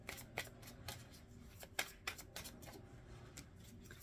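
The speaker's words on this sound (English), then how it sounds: "let's get some Queen Sugar Tarot cards, the Love and Romance Journey cards" Tarot cards being shuffled by hand, a run of soft riffling snaps and flicks in uneven bursts, close but quiet.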